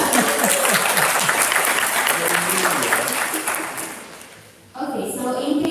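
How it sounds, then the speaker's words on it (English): A large audience at a general assembly session of a veterinary students' symposium in Morocco bursts into dense, sustained applause after a motion passes, fading briefly before a fresh wave of clapping resumes. "We usually clap when the motion passes"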